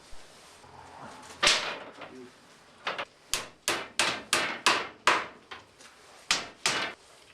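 Sharp hammer blows drive nails into the wooden laths of a handmade lobster pot, about a dozen loud, close strikes in an uneven rhythm with short pauses between groups and no talking.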